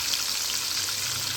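Breaded beef cutlet fries in hot oil with a dense, steady crackling sizzle, close and continuous.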